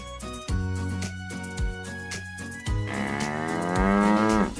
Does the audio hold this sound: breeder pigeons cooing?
no